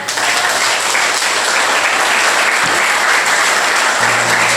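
A church congregation applauds the Lord during a sermon by a guest pastor, a loud, dense, continuous wash of clapping that holds steady throughout.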